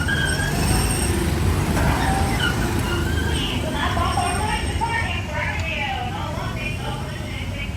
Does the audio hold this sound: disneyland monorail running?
yes